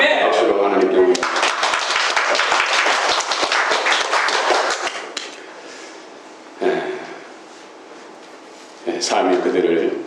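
Applause rises from a Korean church congregation at a Sunday service, offered to God after a choir's hymn. Several seconds of loud, busy clapping thin out and give way to a voice speaking.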